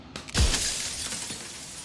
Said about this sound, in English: Then another crack forms, and another, turning the mirror into jagged shards of broken glass.